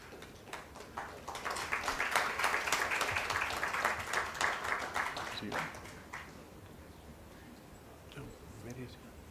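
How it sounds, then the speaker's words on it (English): A crowd at a startup innovation conference gives a big round of applause. Dense, sharp clapping builds and holds for about five seconds, then fades away into quieter room sound. "Ladies and gentlemen, can we have a huge round of applause for Sri Vinit Jain?"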